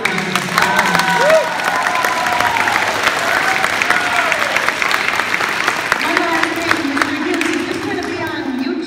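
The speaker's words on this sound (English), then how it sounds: "Give her a big round of applause." An audience at a dance show applauds steadily, a dense wash of clapping with some cheering and shouts, and a voice speaking over it.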